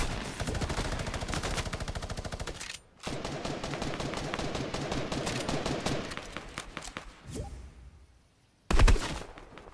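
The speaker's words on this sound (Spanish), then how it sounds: "Me disparan por aquí." Rapid bursts of gunfire in a video game crackle nearly nonstop, loud and close, with a brief gap near three seconds and a sharp final blast near the end; no talking.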